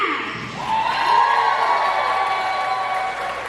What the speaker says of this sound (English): we can give them all a special round of applause